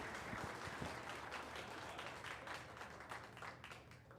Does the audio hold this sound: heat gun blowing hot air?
no